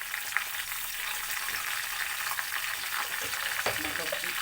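Curry leaves hit hot oil in a pan for a fish curry and set off a bright, continuous sizzle and crackle that stays steady throughout, with a few soft stirring knocks.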